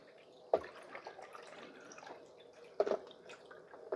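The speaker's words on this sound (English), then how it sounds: "let's pour the water in" Water poured into the reservoir of a Krups Essential Brew 12-cup programmable drip coffee maker from its carafe, a faint trickle and splash with a few sharper splashy bursts, quiet and close.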